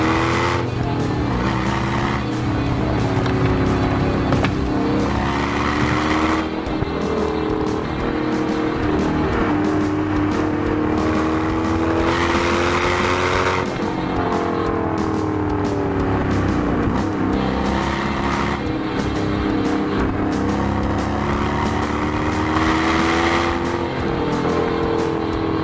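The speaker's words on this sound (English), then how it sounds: "my 2016 Dodge Challenger RT Super Trackback 6-speed manual" A 2016 Dodge Challenger R/T Super Track Pack with a 6-speed manual drives on a back road, its engine rising and falling through gear changes in a loud, continuous growl with tire noise.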